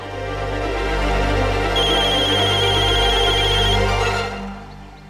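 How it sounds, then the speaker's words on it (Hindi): Steady electronic phone ringtone from a call placed on speakerphone, a sustained tonal ring lasting about four seconds before cutting off, close and fairly loud with no talking. "मैं अभी शालिनी बेटी को फोन लगाता हूं और फोन स्पीकर पे रखता हूं"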